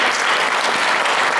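Audience in a comedy-show hall breaking into sustained, steady applause for the godparents seated among them, dense clapping filling the room without pause and no voices standing out.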